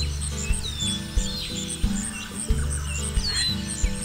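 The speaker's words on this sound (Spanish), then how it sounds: "Montaña." A mountain soundscape with birds: several clear, bright chirps and rising whistled calls ring out at moderate distance over a low, steady backing tune with gentle rhythmic pulses.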